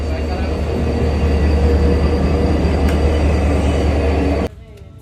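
Loud, steady rumble of a train at Beersheba railway station in Israel, a continuous heavy mechanical roar that cuts off abruptly near the end, leaving quieter background noise.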